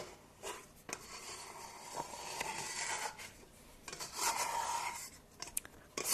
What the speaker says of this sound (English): I'm going to take this and just scrape the inside of my bowl